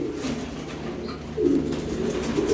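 Racing pigeons cooing in a loft, a pair of purebred birds, with low throaty coos repeating close by, growing louder partway through against a soft background hum.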